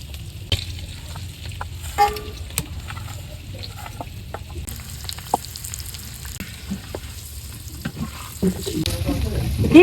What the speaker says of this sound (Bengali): ডিম ভাজা হয়ে গেছে, উঠেই নেই